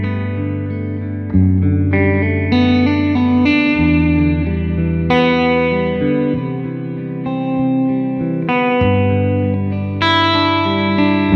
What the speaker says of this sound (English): So this is the Searchlights and the room reverb with minimal effect.